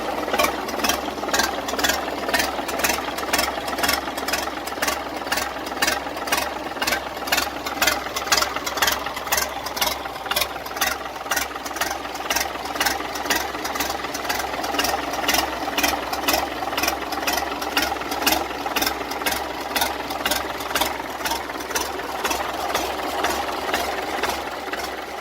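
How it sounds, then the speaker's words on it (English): A Slavia 16 horsepower single-cylinder diesel engine from the Czech Republic runs steadily, its rapid even knocking thump repeating throughout at close range and fairly loud, with no other sounds. "The Slavia 16 horsepower is a classic single-cylinder diesel engine from the Czech Republic,"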